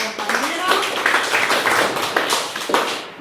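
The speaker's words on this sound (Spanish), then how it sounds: "le brindamos fuertes aplausos a su compañero" Classmates in a classroom clap for a fellow student, a brief burst of scattered hand claps, close and fairly loud, with voices mixed in.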